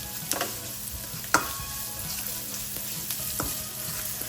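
Onions frying in a pan for low-carb bopis, a steady close sizzle with occasional sharp scrapes and clinks of a spoon stirring, no voices.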